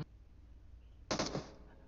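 A quick cluster of shotgun blasts in PUBG Mobile, several sharp cracks in rapid succession partway through, standing out loudly against a quiet, low background hum.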